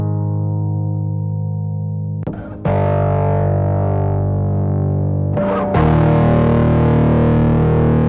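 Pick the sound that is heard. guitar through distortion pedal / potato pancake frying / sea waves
guitar through distortion pedal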